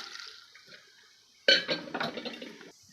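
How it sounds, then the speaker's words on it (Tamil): Metal clinks against a pot, followed by a short burst of water splashing and pouring into the cooking pot for about a second, close by, with no talking. "ஒரு அரை சொம்பு தண்ணி ஊற்றிக்கலாம் அதில்"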